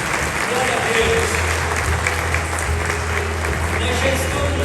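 Church congregation applauding together in steady, dense clapping that fills the space, with a low hum underneath and voices mixed faintly into the crowd.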